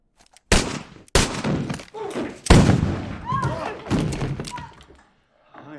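Gunshots in a bar during a Western film scene: several loud, booming shots spaced about a second apart with reverberant tails, and a tense, quieter stretch toward the end.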